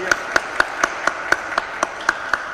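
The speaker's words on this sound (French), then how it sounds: "je crois qu'on peut l'applaudir" Sparse, evenly spaced claps ring out in the large reverberant space of the Basilica Sainte Maxellende in Caudry during Sunday Mass, about ten distinct hand claps in a slow, steady rhythm at moderate loudness.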